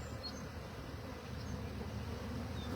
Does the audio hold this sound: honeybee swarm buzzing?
yes